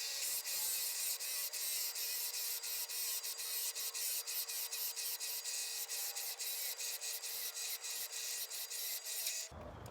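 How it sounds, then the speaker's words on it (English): An underpowered drill with a poor bit bores into wood while a tumbler turner is being built: a steady, harsh grinding whir runs almost unbroken for ten seconds, then cuts off abruptly. "That's just because this is both underpowered and this is not a great drill bit."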